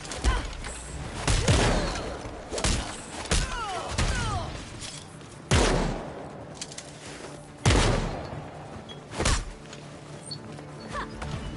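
Gunfire from police officers in the video game Gotham Knights, several loud sharp shots scattered across the scene amid game noise and a few faint bird-like chirps.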